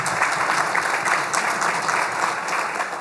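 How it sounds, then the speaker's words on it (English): An audience at an economic development annual meeting in Jacksonville, Onslow County, applauds an absent former board chairman, with a continuous, even wash of clapping from many hands that holds steady throughout. "let's give him a round of applause anyway"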